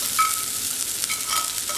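Sliced okra frying in a kadhai, a soft steady sizzle with faint stirring scrapes and a couple of thin metallic tones, fairly quiet and with no talking.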